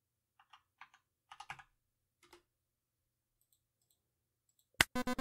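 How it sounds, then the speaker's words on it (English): Keys on a computer keyboard are tapped in a few sparse, quiet clicks and short bursts with pauses between them. A sudden loud tonal burst cuts in at the very end. "Type with keyboard. I'm trying to type right now,"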